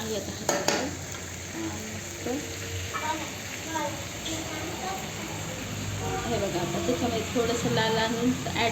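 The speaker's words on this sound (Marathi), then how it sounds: "आता मीठ आणि थोडासा मसाला ॲड करून आपण भाजी फिरून घेतो आहे" Potato and brinjal curry stirred in a pan over a wood-fired stove, a continuous soft sizzle of frying under repeated scraping and stirring strokes, with faint distant voices and light clinks.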